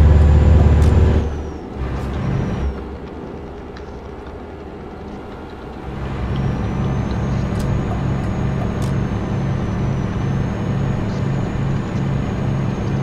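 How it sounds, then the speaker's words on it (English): Bus and truck traffic in the driving game Euro Truck Simulator 2, a loud air-brake hiss at the start, then a steady rumbling engine and road drone with a rhythmic mechanical pulse, no talking. "There's a bus. There's a truck."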